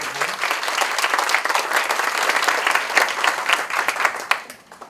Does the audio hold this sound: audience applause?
yes